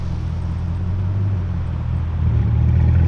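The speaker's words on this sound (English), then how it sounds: "Seeing a Bugatti Devo on streets with Zurich number plates." A Bugatti Divo hypercar with Zurich plates drives along a city street, giving a steady low engine rumble and road noise that swells slightly toward the end, with no talking.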